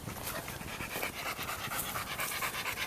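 A hunting dog at a hog hunt panting fast and steadily up close, rapid breathy huffs running throughout at even loudness with no talking.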